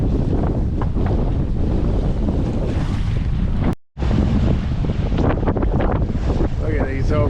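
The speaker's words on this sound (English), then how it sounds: "we still got these waves we got to watch out for." Strong wind roars across open ocean with large overtaking waves surging and crashing around a sailboat after a gale, loud and continuous with a brief dropout midway.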